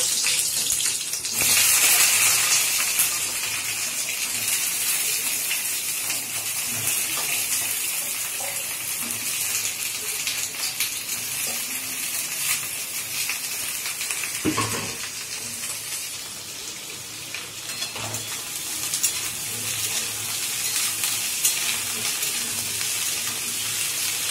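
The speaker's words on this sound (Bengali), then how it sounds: "এই সবজিগুলোকে একটু ভেজে নেব" Mixed vegetables fry in hot oil for khichuri, giving a loud, steady hiss and sizzle that runs continuously with occasional clinks and scrapes in the pan.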